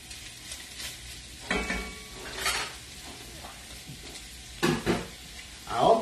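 Sausage fries in a pan for escarole and beans, a steady sizzle broken by several clanks and scrapes of a utensil stirring against the pan, close and fairly loud.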